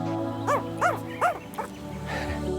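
A few short high whimpers from young Tasmanian devil joeys, four quick cries close by over a low steady hum.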